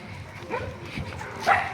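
Dogs out on a street give a few sharp close barks and yips, scattered through a short stretch, with a person talking over them.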